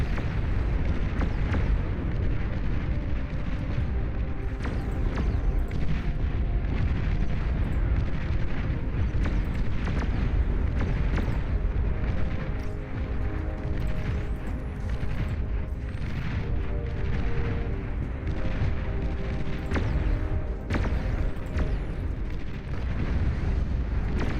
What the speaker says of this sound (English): Good old nuclear missile launch detected.